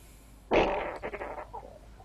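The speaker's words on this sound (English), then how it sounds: "Who farted?" A single loud, close fart bursts out abruptly and trails off in a rumbling, sputtering tail over about a second and a half, heard alone with no talk.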